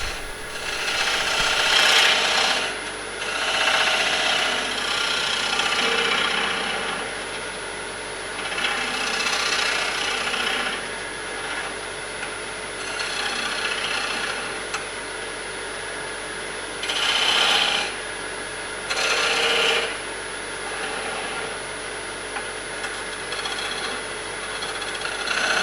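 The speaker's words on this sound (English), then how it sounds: "sand it and then flip it around" Steady abrasive rubbing of sandpaper against a spinning wooden plate on a lathe, a continuous rasping hiss that swells and eases in long passes for the whole stretch, fairly close and with no talk over it.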